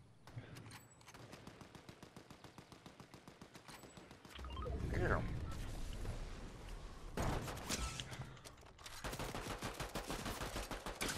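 Gunfire in a video game rattles in an even, rapid rhythm, with heavier booming blasts in the middle and a dense close volley at the end, a voice faint underneath.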